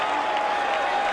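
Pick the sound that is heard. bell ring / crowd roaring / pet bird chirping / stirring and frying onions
crowd roaring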